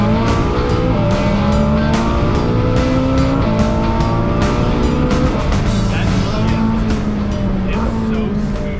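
A Ferrari 458 Speciale being driven hard once its engine has warmed up: a loud, close, sustained engine roar whose pitch climbs and shifts as it revs, with no talk over it.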